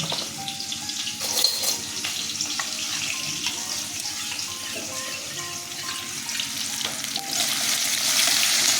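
Ground cumin, coriander and chilli powder fry in hot oil in a pan for an egg kasha, a loud, steady sizzle with stirring scrapes and clatter that grows louder near the end.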